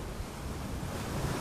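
Ocean waves crash and roll as a steady, full surf wash in an audiobook retelling of Pushkin's tale of the little golden fish, heard alone without narration.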